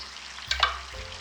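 Whole cumin seeds, dried coriander and red chili frying in a pan: a quiet sizzle with one brief stirring scrape and rattle near the middle, close by, with no talking.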